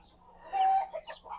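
A homestead chicken clucks close by in a short run of calls: one longer, steady cluck followed by several quick, softer clucks over a faint low hum.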